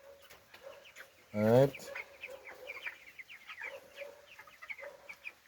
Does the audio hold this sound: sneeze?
no